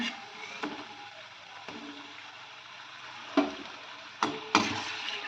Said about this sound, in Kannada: ಫ್ರೆಂಡ್ಸ್ ನೋಡ್ರಿ ಪಕೋಡಿ ಚಂದ ಫ್ರೈ ಆಗ್ಯಾವ ಫ್ರೆಂಡ್ಸ್ ಈಗ ನಾನು ತೆಗಿತಿದ್ದೀನಿ